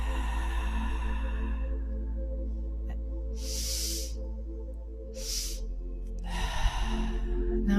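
Breath is exhaled forcefully through the mouth during a tantra meditation breathing exercise, three distinct breathy hisses, two longer and one short, close and alone over a soft music drone.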